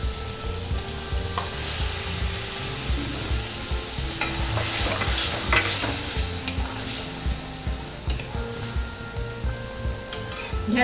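Okra is stirred into a sizzling spice paste for a vegetarian cashew and poppy seed dish, giving a steady loud fry with spoon scrapes and clinks throughout.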